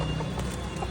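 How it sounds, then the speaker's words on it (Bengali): Local desi chickens being bought at a busy market cluck faintly and intermittently, buried in dense crowd and traffic noise. "আজকে নিচ্ছি 5টা দেশি কুরাস মুরগি"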